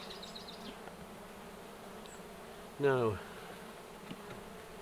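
Honey bees hum steadily in an open hive, with one bee buzzing loudly and close for a moment partway through; a voice speaks a single word at the start.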